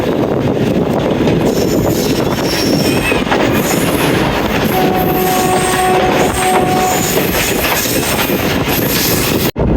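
Hazara Express with new coaches pulling away, a loud, steady rumble of rolling wagons with wheel squeal and rail clatter throughout, close by, ending abruptly.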